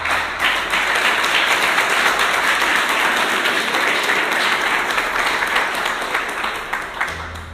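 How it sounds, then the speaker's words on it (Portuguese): A church congregation bursts into dense, sustained applause during a sermon, loud and steady for several seconds before thinning out slightly at the end. "vamos aplaudir a palavra de Deus"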